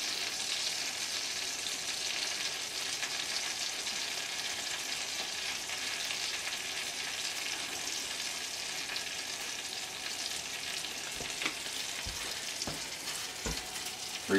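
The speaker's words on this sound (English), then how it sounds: "We're going to fry these fillets about 3 minutes per side." Perch fillets sizzle steadily in a hot frying pan, a dense continuous crackle that stays even throughout, with a couple of soft knocks near the end.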